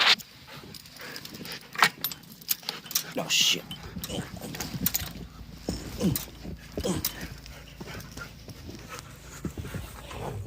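Several huskies running through deep snow in a Chicago blizzard, with irregular padding, jingling harness or tag sounds and scattered yelps, close by, under frequent talk and exclamations from people running with them.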